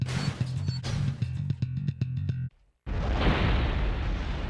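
Bomb exploding in the PS1 Spider-Man video game: a rhythmic beeping game sequence, a brief silence, then a loud sustained blast of noisy rumble close up.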